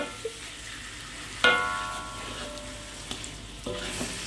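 Beef sautéed with rendang spice paste over low heat, a quiet sizzle that swells when the meat goes in, followed by a few scrapes and soft clatters, heard alone without voices.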